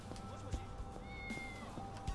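A cat meows in the video game Yakuza 6, a short clear call set against quiet ambient game sound and a voice.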